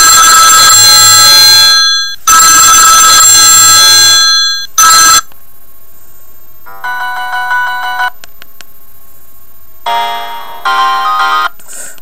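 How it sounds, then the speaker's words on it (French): Loud electronic ringtones from a Classic GPS senior mobile phone, several different tunes played one after another with short pauses between them: first long buzzy blasts, then lighter chiming melodic patterns, with no voices. "Vous avez donc une dizaine de sonneries."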